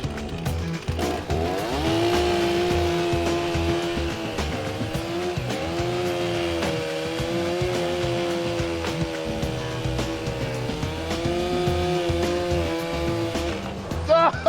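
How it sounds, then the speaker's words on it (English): A chainsaw cutting through a pipe drones loudly and steadily for the whole stretch, its pitch wavering slightly as it cuts, with faint voices underneath. "I can hear the chainsaw"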